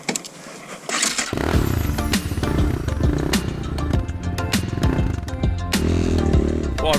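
A motorcycle on a race track roars past, its engine note swelling loudly and holding steady with revving, throaty rumble, fairly close and continuous.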